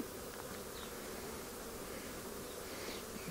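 Honey bees buzz continuously around an opened beehive with smoke applied, a dense steady drone close to the ear with individual bees passing now and then.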